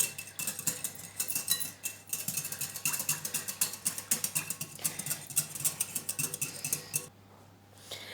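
A spoon beats yogurt (dahi) in a bowl for vegetable raita, a quick steady run of clicking, scraping strokes at close range that stop near the end.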